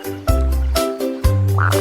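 Cartoonish frog croaks in a children's song: three low, buzzing croaks in a bouncy rhythm, close and loud, with a musical tone.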